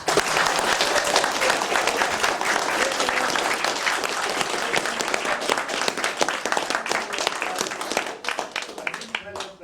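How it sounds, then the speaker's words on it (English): A crowd at a Kealkill Scoraíocht night gives sustained, loud applause that stays thick and steady for several seconds before tapering off at the very end. "give you a great big round of applause, which you truly deserve"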